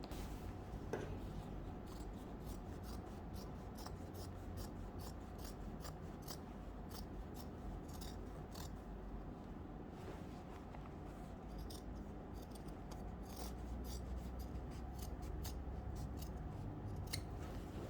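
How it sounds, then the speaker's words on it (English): Scissors snip through skirt fabric along a marked line, a steady series of crisp, close cuts repeating throughout at a quiet level with no talking. "I put the seam to one side and I cut to the thin line."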